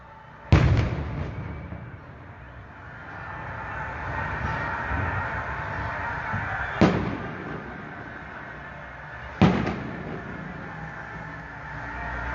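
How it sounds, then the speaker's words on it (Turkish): Three sharp, booming bangs of fireworks fired from the castle over Giresun, Turkey, celebrating Giresunspor's promotion, ring out several seconds apart, each echoing into a rumbling, crackly wash of distant noise in between. "Kaleden büyük havai fişek gösterileri."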